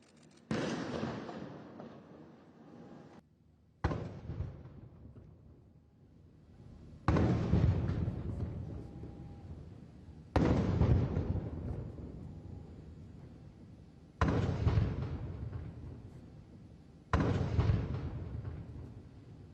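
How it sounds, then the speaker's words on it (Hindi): Cannon salute of 21 guns fired in the Maldives to honour India's prime minister, heard as six loud, separate booms spaced a few seconds apart, each ringing out and fading before the next blast, with no talking. "आज पीएम मोदी को 21 तोपों की सलामी दी गई।"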